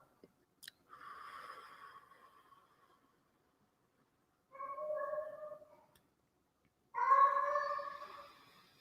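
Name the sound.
cat meowing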